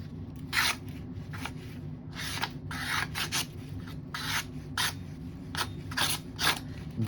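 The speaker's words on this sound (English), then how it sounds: "let me cut some paper." A 7-inch custom chef's knife slices through paper in a series of quick, crisp rasping cuts, about ten distinct strokes at an irregular rhythm, close and fairly quiet with no talking.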